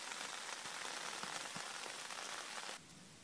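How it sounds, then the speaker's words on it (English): Steady rain patters on surfaces around a camp on rural property, an even hiss that cuts off abruptly near the end. "Okay, so the rain totally didn't stop."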